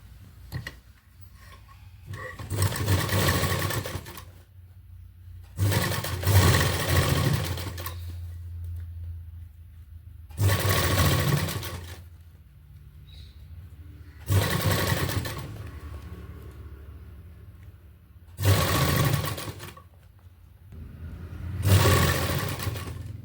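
A sewing machine stitching the neckline of a suit runs in six separate bursts of rapid whirring and clattering, each lasting a couple of seconds, separated by quiet pauses, close and fairly loud.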